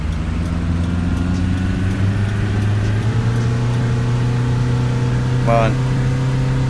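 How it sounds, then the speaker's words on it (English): A Fernbus simulator coach engine drones in a steady low hum, rising slightly as it works through the gears, with a brief spoken word over it near the end. "It really does sound like I'm thrashing this engine, doesn't it?"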